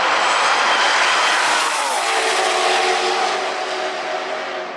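A ZR1 sports car in track mode with a manual gearbox revs hard through second and third gear, its loud, close engine roar rising in pitch, then dropping and climbing again at the shift.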